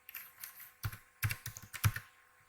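Fingers typing on a computer keyboard, a short close burst of irregular key clicks with a few quick pauses.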